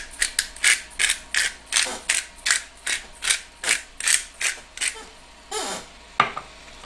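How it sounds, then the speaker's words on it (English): A small pepper grinder grinding pepper, about a dozen evenly spaced crunchy ratcheting twists, close and crisp, followed by a couple of softer scraping sounds. "And now my little pepper grinder."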